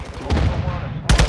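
Gunfire in a video game, a couple of sharp close shots at the start and a loud burst near the end, with game ambience in between.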